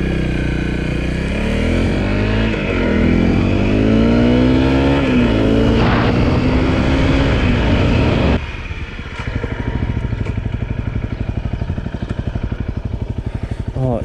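Honda CRF250L motorcycle ridden onto a real road, its engine loud and close as it revs through rising and falling gear changes, then settling into a steady rumbling cruise after a shift; a voice is briefly heard over it.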